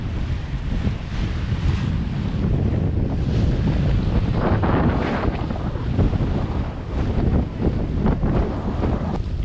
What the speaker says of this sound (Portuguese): Olha a onda aí.